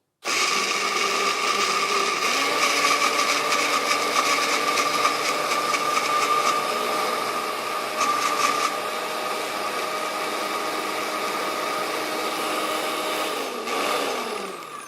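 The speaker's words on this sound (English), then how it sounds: "Lock it into place, and then we're going to turn it on to blend." A Hurricane CPB-380C compact blender runs steadily for about fourteen seconds, a loud close high-pitched motor whine that shifts pitch slightly midway before spinning down at the end.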